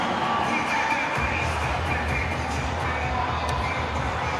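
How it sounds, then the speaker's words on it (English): Broad, steady stadium crowd noise from an AFL football match between Gold Coast and St Kilda, a continuous wash of voices and cheering at moderate distance with no distinct commentary over it. "the crowd have at least got some voice going"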